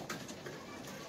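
Pigeons coo softly inside a cage where rare Spanish partridges are kept, a low steady murmur of birds close by, with no talking over it.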